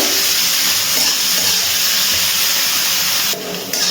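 Chopped onion fries in a pan, giving an even, close-up hiss and sizzle that runs without a break, with no voices.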